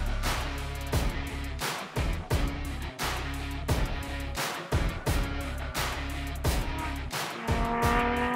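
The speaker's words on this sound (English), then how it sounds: "It's quite a blast to drive on the track." A lightweight all-wheel-drive Aptera electric car driving hard on a race track, with a steady, fairly faint drone, repeated sharp transients and brief tire-squeal hints throughout.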